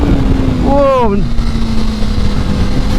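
Kawasaki ZX-4RR sport bike on a race track in the wrong gear, its engine note sweeping up and cutting out abruptly, then settling into a steady drone under loud wind rush close to the rider.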